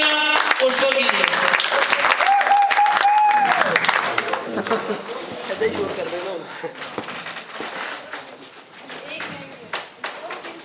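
A live audience at a stage show bursts into strong, dense applause that gradually thins into scattered claps, with voices and other sounds mixed in.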